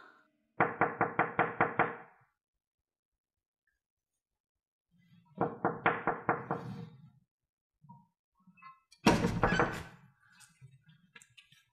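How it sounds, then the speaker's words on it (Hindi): Three bursts of rapid knocking on a door, each a quick run of about six to eight sharp raps, with pauses between them and a heavier, louder burst at the end in an otherwise quiet room. "राफिया बेटा, कुछ बोलो तो सही प्लीज, दरवाजा खोलो ना।"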